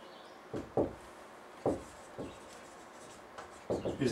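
Handwriting of the interquartile range formula, a few short scratchy pen or marker strokes in separate bursts with pauses between, close and fairly quiet.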